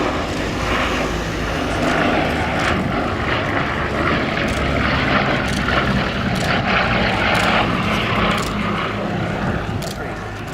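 Bristol Blenheim piston aircraft engines drone steadily overhead at an RAF air show, a loud continuous propeller roar with a public-address voice talking over it throughout.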